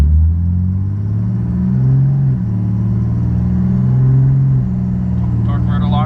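A truck with a 68RFE transmission accelerates hard, its engine droning steadily and rising in pitch through the gears. The rumble is loud and close, like it is heard from inside the cab, with a brief voice near the end.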